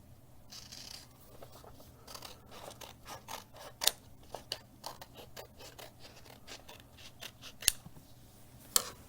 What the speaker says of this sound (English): we're going to take our handy dandy scissors and we're going to cut off this extra piece of paper that didn't get folded